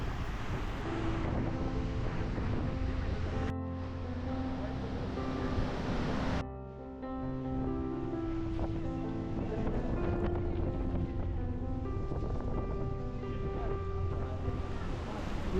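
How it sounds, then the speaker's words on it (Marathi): A steady, powerful roar of the tall Thoseghar waterfall in Satara during the monsoon fills the whole clip, broad and continuous, with some tonal background sounds layered on top and no clear speech. "इथे पोचताच समोर दिसतो तो अप्रतिम उंच उंच धबधबा"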